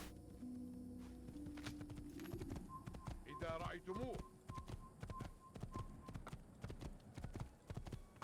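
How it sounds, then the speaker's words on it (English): Horse hooves clip-clop steadily in the Assassin's Creed video game, a rhythmic trot at moderate distance beneath someone talking and in-game background sound. "And we're gonna steal this horse for it."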